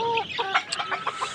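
Chickens on a poultry farm cluck in a quick, uneven run of short calls while they are fed bran in the morning. The birds are close and fairly loud, and no voice is heard.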